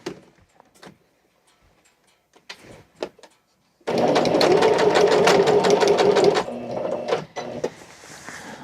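A sewing machine stitches curtain fabric in a fast, steady whir for a few seconds, then slows and stops; faint handling clicks and quiet sounds come before it starts.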